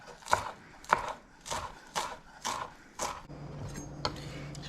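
Knife chopping food on a cutting board while preparing seared salmon and egg fried rice: six evenly spaced, crisp close thuds, followed by quieter scraping and handling noise.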